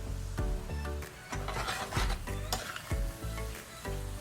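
Chopped onion hits a pan of browning ground beef and sizzles steadily, with repeated stirring scrapes and clunks of a utensil against the cookware, loud and close.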